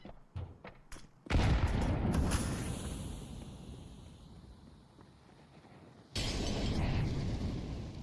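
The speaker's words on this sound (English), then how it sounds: "The molly goes into default." Counter-Strike gunfire and a molotov grenade bursting into flames, sharp shots at first, then a loud burst decaying into crackling fire, followed by a second loud roaring burst.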